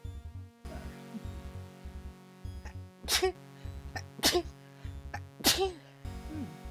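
Three small, quick sneezes spaced a second or so apart, sharp and close, over a quiet background.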